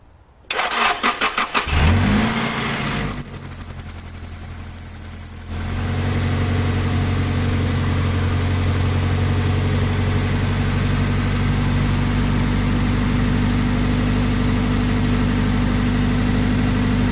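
A car engine cranks a few times on a battery jump starter pack, catches with a rev, then settles into a steady, loud idle that runs on without interruption.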